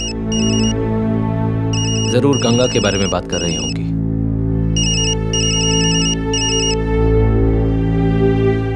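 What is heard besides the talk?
telephone ringing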